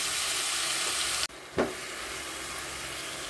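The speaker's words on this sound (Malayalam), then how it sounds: "അതിലേക്ക് ചെറുപഴം ചെറുതായി അരിഞ്ഞത് ചേർത്തിളക്കുക" Chopped small bananas frying in hot ghee in a pan, a steady broadband sizzle that cuts out briefly, then returns with a sharp burst as the bananas go in and are stirred, settling back to a constant fry.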